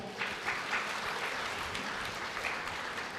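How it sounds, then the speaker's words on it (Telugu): Audience at a Dhyana Balavikas summer camp gathering at the Sri Vashistha Gautami Pyramid breaks into steady, sustained clapping, a dense continuous wash of many hands lasting several seconds. "ఒకసారి గట్టిగా క్లాప్స్"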